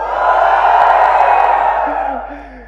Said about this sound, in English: No, give me a flagship cheer.